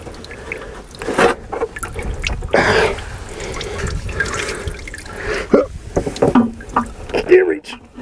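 Water drips and splashes out of the swivel joint of a Hitachi EX120-2 excavator swing device during a rebuild, with irregular close drips and trickles mixed with handling noises and someone talking.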